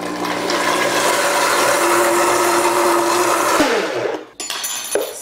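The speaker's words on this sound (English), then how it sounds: "And we just blend it in the blender." A blender whirs steadily as it blends almond butter and maple syrup into a caramel sauce, a loud continuous motor drone that winds down and cuts off near the end, followed by brief clatter.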